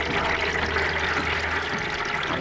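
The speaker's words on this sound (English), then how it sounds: "And outside it begins to rain." A rain sound effect made for a radio-style detective story: a steady, dense hiss of falling water, even and unbroken throughout, with no voices over it.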